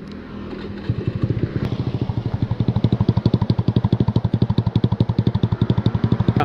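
A Honda Beat motorcycle engine with a loud aftermarket exhaust starts and settles into a fast, deep, rapid idle pulse, close and steady without talk.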